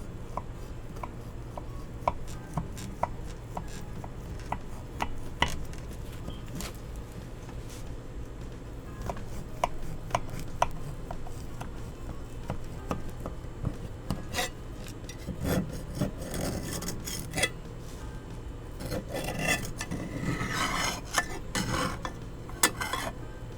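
A knife cuts into a baked cassava pone, giving soft repeated rasping and scraping strokes with scattered clicks of the blade against a dish, close and fairly quiet, with no talking.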